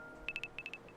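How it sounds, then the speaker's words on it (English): A video game phone in Dungeons of Hinterberg rings with a quick string of bright electronic beeps in two bursts of three, then two softer ones, clear and alone. "Is that my phone? Oh, it is my phone. Sorry, it's calling."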